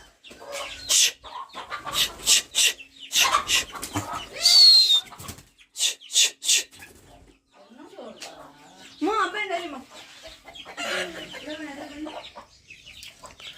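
Chickens roaming inside a home cluck and squawk nearby in short repeated bursts, with people talking in between and around them.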